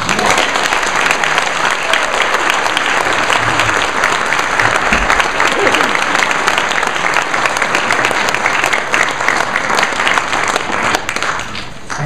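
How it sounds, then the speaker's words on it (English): A lecture-hall audience in Poughkeepsie, Mid-Hudson Valley, at a Lyme disease science talk gives long, loud, dense applause, a continuous roar of many hands clapping that holds steady for about twelve seconds before easing slightly. "So please join me in giving a resounding Poughkeepsie Mid-Hudson Valley applause."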